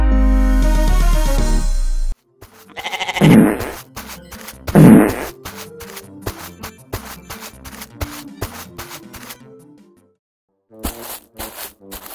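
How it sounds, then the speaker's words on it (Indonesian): Cartoon-style fart noises in an animated children's series, a few loud, low, buzzing blasts that follow a sustained tone and are interspersed with rustling, rapid clicks and short sharp sounds, with no talk. "Siapa yang kentut nih?"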